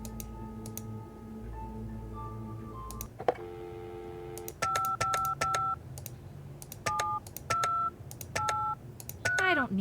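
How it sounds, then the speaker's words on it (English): Touch-tone dialing in the detective video game Penelope Pendrick and the Art of Deceit: a steady dial hum, then a rapid run of short beeping keypad tones with clicks between them, each tone crisp and evenly spaced. "Let's try another phone call."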